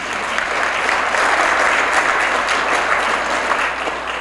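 Sustained audience applause at a conference, a dense, even wash of clapping from a full room that holds steady for several seconds without speech.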